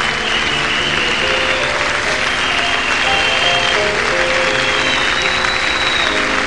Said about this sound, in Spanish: Le vamos a dar un gran aplauso.